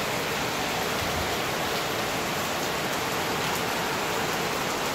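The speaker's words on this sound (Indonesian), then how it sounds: "gak terang-terang tuh hujannya, teman-teman. Semakin lama semakin deras tuh" Heavy rain pours down in a small town in Ambulu, a dense, steady hiss of drops on surfaces close by and unbroken throughout, with no voices.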